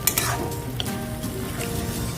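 Onions fry over a lowered flame in a pan, a soft, continuous sizzle with occasional light spatters and faint stirring scrapes, heard alone and fairly quiet.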